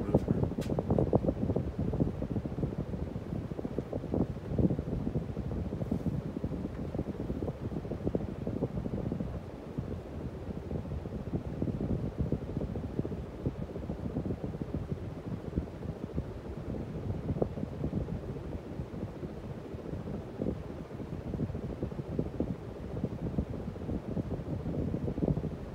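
A Hunter Low Profile II 52-inch ceiling fan in antique brass and oak runs steadily, giving a continuous low whooshing hum with faint rustle throughout, fairly close and unbroken, with no talk over it.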